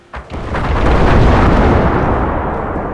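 Grenades explode in the strategy game Empire: Total War, a loud, rumbling blast that swells and holds as a dense roar of battle noise for a few seconds, with no voices.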